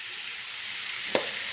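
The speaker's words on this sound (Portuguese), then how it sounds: "Vamos deixar ele fritar aqui." Peppers and tomato frying in a pan for a rice dish give a steady, soft sizzle throughout, with one brief clink of a utensil near the end and no talking.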